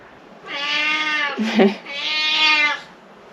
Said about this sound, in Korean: 과자를 달라는 저 고양이의 요청에 따라서 저는 까까를 좀 주도록 하겠습니다